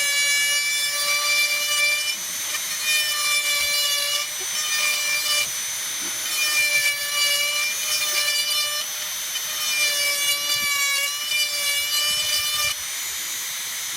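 A micro motor rotary tool carves and flattens wood, a high steady whine with strong overtones that keeps going with short dips and slight pitch changes as the bit rubs across the surface, close up and with no talking.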